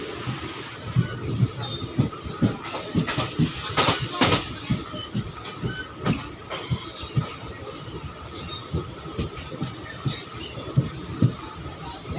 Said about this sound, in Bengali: আমাদের ট্রেন এসে এখন পৌঁছলো ভালুকা রোড স্টেশন